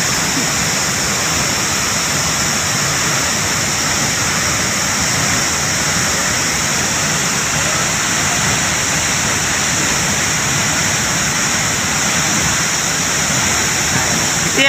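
A 21-foot waterfall at Rautwadi near Dajipur roars in a loud, steady, continuous rush of falling water from close by, with no break across the whole stretch.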